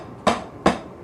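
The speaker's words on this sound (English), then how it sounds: "These are singles." Three single drum strokes on a practice surface, evenly spaced, each a sharp, close, dry hit with a short decay and nothing else heard.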